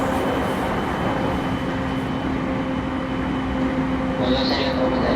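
Interior running sound of an E231 series train on the Joban Rapid Line between Kita-Senju and Matsudo: a continuous loud rumble with a steady motor whine and no distinct speech.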